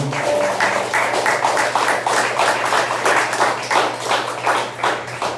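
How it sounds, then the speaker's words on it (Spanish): A church congregation claps during a worship service, dense sustained applause from many hands, loud and close, with a low steady hum underneath and no talking. "Den un aplauso a nuestro Señor"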